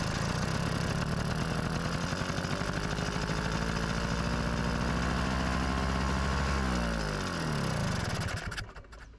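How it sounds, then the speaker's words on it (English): Vespa PX scooter engine running with its fuel valve closed, a steady buzzing idle that climbs in pitch as the revs rise from lean mixture, then cuts out abruptly near the end. "The engine suddenly cranked up the RPM, a clear indication of a lean fuel mixture in idle"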